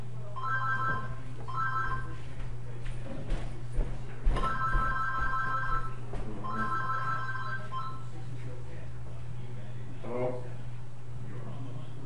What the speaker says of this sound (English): I was answering the phone.